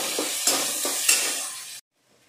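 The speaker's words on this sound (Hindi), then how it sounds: "उसके बाद ये जो हमारा चॉप किया हुआ प्याज है इसको डालेंगे, और इसको ब्राउन होने तक भूनेंगे।" Chopped onions frying in a pan, a loud steady sizzle with a few scraping stirs and clinks, cutting off abruptly near the end into quiet.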